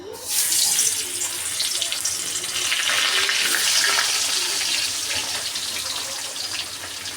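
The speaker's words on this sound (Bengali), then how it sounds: "তেলটা গরম হয়ে গেছে এখন আমি মাছগুলো দিয়ে দেব" Spiced sea fish dropped into hot oil in a pan crackle and sizzle loudly and steadily, close up, with no talking.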